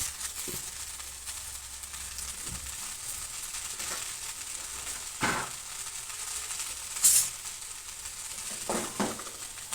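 Vegetables stir-fried in a pan after a sprinkling of salt and chili, a steady close sizzle with occasional scraping tosses of the spoon and one sharp clink near the end, no voices.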